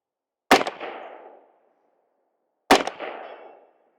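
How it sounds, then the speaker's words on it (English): Two sharp gunshots from a roller-delayed 10mm Stribog SP10 A3 fired at steel targets 100 yards away, each a loud crack followed by a fading echo, spaced about two seconds apart in an otherwise quiet outdoor range. "We are hitting steel at 100 yards."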